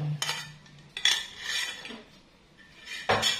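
A spoon clinks and scrapes around a bowl while stirring a batter of leftover cooked rice and melted margarine, in several short bursts of metallic knocks with quieter gaps between, close up and with no speech.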